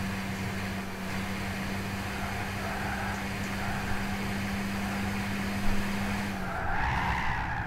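Tires squeal continuously on a car in the Gran Turismo 6 racing game, a sustained loud screech over a steady engine drone that shifts pitch near the end.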